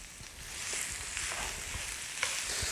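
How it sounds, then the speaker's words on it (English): Onions and pork fry in a pan for a nine-inch pork pie, giving a faint, steady sizzle with soft crackles that runs throughout at low level. "Our onions go in the pan. Then I'm going to add our pork."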